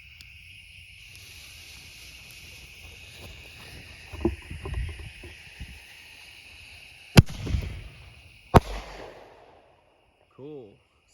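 A 1-inch mini bomb mortar firework by Sun Fireworks launches with a thump, followed by two sharp cracking bursts a little over a second apart, over steady outdoor background hiss and brief voices.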